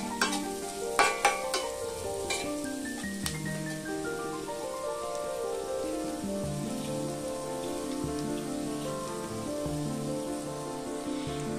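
Onion pieces fry with a pinch of salt in a pan, a dense continuous sizzle like rain with a few sharp stirring knocks early on, under gentle music.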